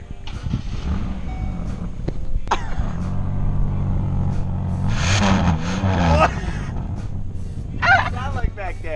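Loud, raspy roar of a straight-piped Buick engine revving up and falling back close by, with rising and falling pitch sweeps and voices talking over it.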